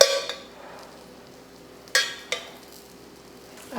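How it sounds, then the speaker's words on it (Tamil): Oil sizzling on a dosa in a hot pan, with quiet frying hiss between a few sharp scraping clatters of a spatula against the pan. "அடுத்து மேலே எண்ணெயை ஊற்றிடலாம்."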